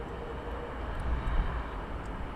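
Airliner touching down on runway 27R at Heathrow Airport, heard as a steady low broadband roar from a distance with a faint rumble at touchdown and no talk over it.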